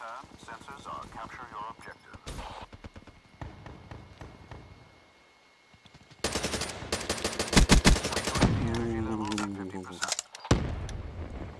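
Rapid bursts of gunfire from Call of Duty: Black Ops 3 multiplayer, loud clustered volleys breaking through game audio, with a person talking in the stretches between shots.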